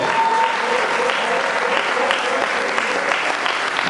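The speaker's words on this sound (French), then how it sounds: "Est-ce qu'on peut acclamer le Seigneur?" A church congregation at a New Year service applauds and cheers for the Lord, with dense, steady clapping and crowd noise filling the space at an even level throughout.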